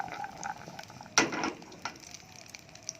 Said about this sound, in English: shallot, like that, and candle nuts. So you need to saute this a few seconds.